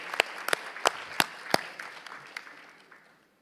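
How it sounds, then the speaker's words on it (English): Sparse applause at a corporate annual stockholders' meeting welcomes newly elected board directors, a handful of distinct claps over a soft patter that fades out within a few seconds. "Let us welcome the elected directors with a warm round of applause."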